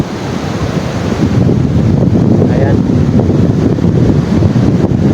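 Heavy surf roars continuously at night with strong northeast monsoon wind buffeting the microphone, loud and close, while a voice briefly speaks over it.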